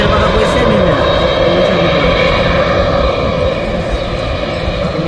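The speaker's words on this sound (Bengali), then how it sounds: "দেখতে পাচ্ছেন আপনারা বিমানটি ফ্লাই করে ফেললো।" An airplane takes off at Dhaka International Airport, its engines giving a loud, steady broadband roar that fills the whole clip, with speech faint underneath.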